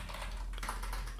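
Computer keyboard typing during a data-entry task, a steady stream of quiet, rapid keystrokes close by with no talking.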